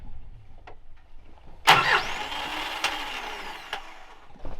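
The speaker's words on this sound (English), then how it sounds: "Truck's having starting issues. Something's going on with the starters." The starter of an Isuzu 4x4 truck engages and whirs for a few seconds without the engine catching, close and fairly loud, with faint clicks before and after.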